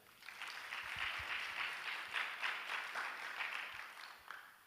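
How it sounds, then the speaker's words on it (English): Applause from an audience at a cybersecurity breakout session during a tech week in Nairobi, a steady, fairly distant round of clapping holding for several seconds, with no voices over it. "A round of applause again."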